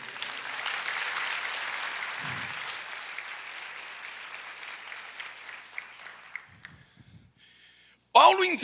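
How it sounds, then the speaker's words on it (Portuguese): A church congregation applauding during a sermon, a broad wash of clapping that swells early and slowly fades out, followed by brief quiet and a sudden loud voice at the end. "você pode aplaudir o Senhor?"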